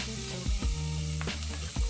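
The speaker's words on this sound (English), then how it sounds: "my saute pan temperature is pretty high, so you can hear the sizzling sound" Cashew nut chicken stir-fry sizzles steadily in a very hot sauté pan, a constant crackling hiss with a few soft scraping stirs mixed in.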